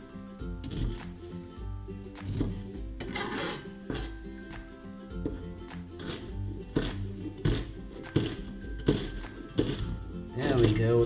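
Kitchen knife cutting an onion in half on a cutting board while making shepherd's pie, with repeated sharp thunks and rasping knife strokes over a background of music and talk.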